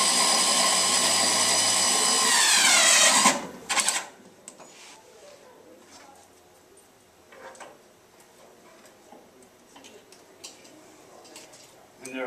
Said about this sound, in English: you take your screwdriver and screw those in